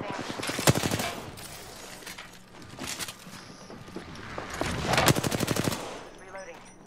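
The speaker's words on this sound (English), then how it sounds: "Getting shot at." Bursts of rapid automatic gunfire from an Apex Legends–style shooter video game, several loud rattling volleys separated by brief pauses, with voices speaking in between.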